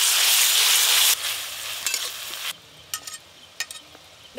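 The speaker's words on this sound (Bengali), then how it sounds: "পেঁয়াজ বাটা আদা বাটা রসুন বাটা একসঙ্গে ভালো করে ভাজবো" Onion, ginger and garlic pastes fry together in hot oil for a home-cooked dish, starting with a loud, dense sizzle that drops abruptly, then softens further with scattered stirring clicks and scrapes near the end.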